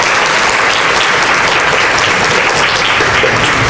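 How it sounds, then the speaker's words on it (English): Sustained, loud round of applause from an audience at a Torah lecture, thick continuous clapping with no gaps or voices throughout. "She certainly deserves a round of applause."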